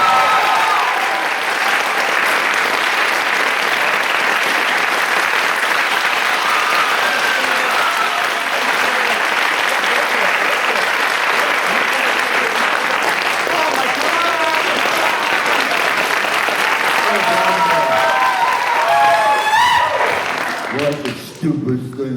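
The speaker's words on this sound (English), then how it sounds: "Give her a good hand." An audience at a November symposium session breaks into loud, sustained applause that fills the room for about twenty seconds, then fades out as voices begin talking.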